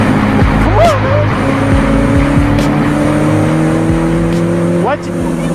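Cars race on a road with engines revving and tires squealing in several sharp rising screeches. The racing sounds are loud and close, and people shout and talk over them.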